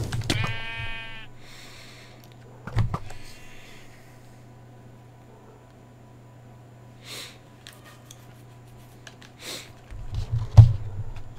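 Minecraft sheep bleat in short nasal bursts near the start and again around the three-second mark, over a steady low game hum with scattered faint clicks and a brief louder thump late on.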